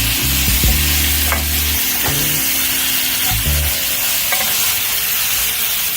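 Vermicelli (fideo) pasta browning in a pan for Mexican spaghetti, a steady close sizzle with intermittent scraping and stirring knocks throughout.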